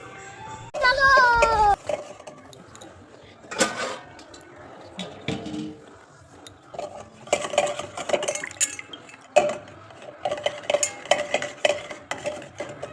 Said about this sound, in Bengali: গরম দুধটা কিন্তু এর মধ্যে ভালো করে নাড়ালে কিন্তু এটা ঠান্ডা হয়ে যায় খুব তাড়াতাড়ি